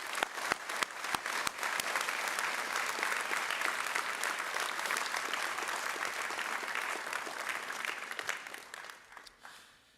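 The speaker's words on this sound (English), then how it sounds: "give Paramedic Graham a round of applause loud enough so he can hear it" Sustained applause from an audience at a college paramedic program graduation, a dense, steady wash of many hands clapping that carries on for several seconds before tapering off at the end.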